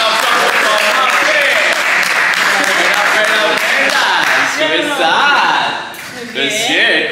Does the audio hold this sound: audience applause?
yes